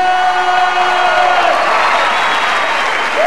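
A comedy club audience at a Cajun comedy show breaks into loud, dense applause mixed with cheering and whoops, a sustained wall of clapping with a few rising shouts above it.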